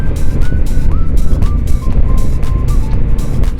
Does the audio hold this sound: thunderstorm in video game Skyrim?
no